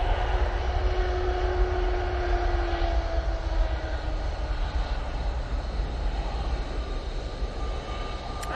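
An Emirates airliner in the new UAE flag livery rumbles at the airport with a steady engine roar and a slowly falling whine, moderately loud and continuous, with no voices.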